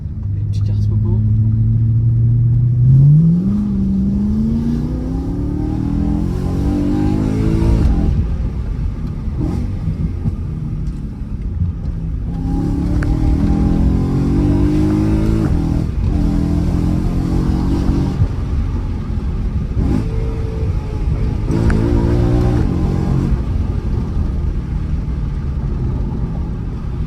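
A BMW M3 E92 accelerating on the road, its engine note rising through the revs and pulling through gears as a loud, continuous rumble from inside the car.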